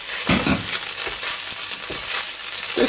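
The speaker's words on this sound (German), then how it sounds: "Das zusammen jetzt richtig schön anschmoren." Meatballs fry and braise in a hot pan with other ingredients added, a close, steady sizzle broken by crackling spits and soft stirring scrapes, with no talk.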